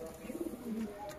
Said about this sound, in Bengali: এই দেখো খুব সুন্দর লাইনের পায়রা